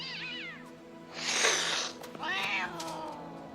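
A cat in a film scene lets out a drawn-out, wavering meow, then a louder caterwaul and a final rising cry, all close by over a faint background drone.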